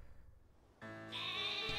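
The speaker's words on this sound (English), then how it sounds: "A sheep thing. I don't know what the hell it's actually called, but it's a sheep." A sheep Pokémon in Pokemon Sword lets out a short, clear bleat that rises sharply out of near silence and holds for about a second.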